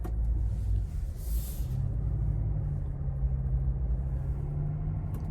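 A 2024 Chevrolet Silverado ZR2 Bison in 2-wheel drive spins its wheels on an unplowed, snowy street. A muffled, steady low engine drone is heard from inside the cab, faint, with no talking.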